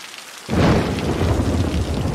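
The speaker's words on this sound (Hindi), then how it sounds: "शायद बारिश चालू हुई इसलिए तो नहीं कोई आ नहीं आ रहा।" Rain and thunderstorm in the city-building game Cities: Skylines: after a brief quiet moment a loud, steady downpour surges in with a deep rumbling roll of thunder, continuing without a break.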